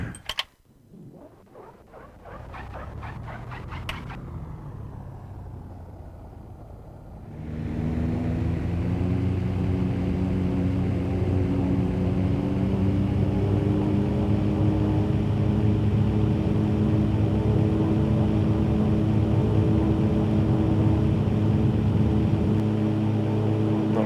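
A propeller airplane engine runs up from a lower idle to a loud, steady full-power roar during takeoff and climb, with a sweeping rise in pitch at first and then a sustained close, droning tone.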